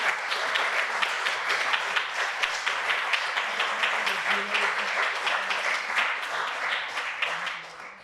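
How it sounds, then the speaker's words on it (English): A crowd gathered at a foundation award ceremony breaks into sustained applause, a dense wash of many hands clapping that holds steady and then eases off slightly at the end. A few voices murmur underneath. "let's all give ourselves a round of applause because you guys all deserve it"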